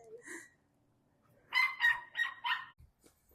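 A dog barks four times in quick succession, somewhat distant and fairly quiet, after a brief faint sound at the start.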